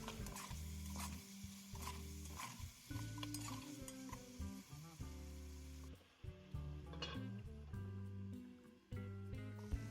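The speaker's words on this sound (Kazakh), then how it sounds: "пияз салып араластырамын және қызарғанша қуырып аламын" Onions being stirred and fried with meat in a pan for a Kazakh-style roast, a steady close-up sizzle with repeated scraping stirs running the full length, with no talk.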